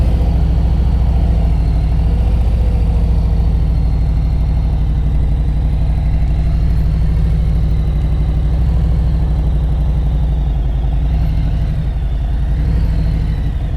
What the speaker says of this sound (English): if you're riding the Harley Davidson touring motorcycle